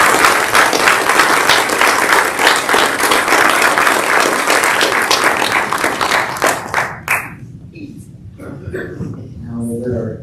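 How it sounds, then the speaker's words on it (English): Audience applause at a county spelling bee as contestants leave the stage: loud sustained clapping for about seven seconds that fades out, followed by a speaking voice over room quiet. "Could we please have applause for number 15 and for number 31 as they exit the stage?"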